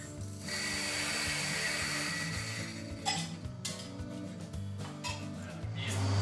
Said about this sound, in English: So I'm going to grind the coffee.